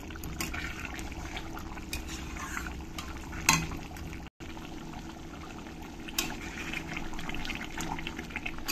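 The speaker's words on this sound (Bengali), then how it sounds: "এবার আমি না ঢেকেই একটু জ্বালিয়ে নেব ভালো করে" Prawn malai curry simmers uncovered in a pan, giving a soft, continuous bubbling and sizzle, with one brief dropout partway through.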